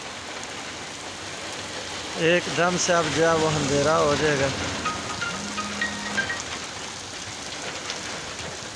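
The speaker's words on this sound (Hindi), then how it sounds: "काफ़ी दिन के बाद जो है ना ये पहली बारिश है जो ऐसी हुई है" Steady rain, the first heavy rain after many dry days, patters continuously in a dense hiss while someone talks over it for a few seconds.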